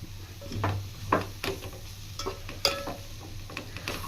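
Drumstick leaves are stirred as they fry in a pan on the stove. A spoon scrapes and taps in irregular strokes over a soft, steady sizzle, close up and with no talking.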